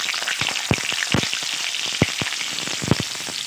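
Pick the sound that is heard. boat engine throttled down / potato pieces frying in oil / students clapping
potato pieces frying in oil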